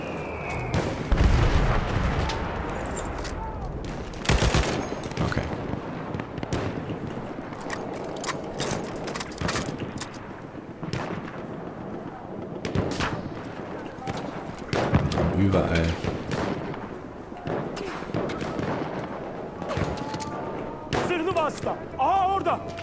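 Repeated gunshots and booming blasts in the video game Battlefield 1 crack through a busy, noisy mix, irregular bursts near and far over a constant mechanical clatter.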